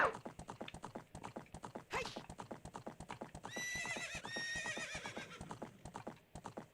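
Horse hoofbeats from the Zelda 64 video game clop in a steady, rapid rhythm throughout, with a loud neigh and whinny rising in the middle over the galloping.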